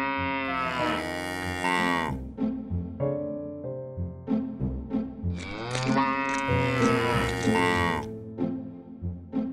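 A cartoon white water buffalo calf lows in long, drawn-out harmonic calls, two big swelling moos with shorter grunts between, loud and close over a busy animated soundtrack.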